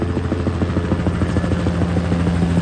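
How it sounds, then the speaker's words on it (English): Police helicopters circling overhead while searching for a stolen SRT Jeep, a loud steady rotor chop with rapid blade pulses running continuously, close and dominant with no talk. "We still got the fucking helicopters up in the air trying to find them."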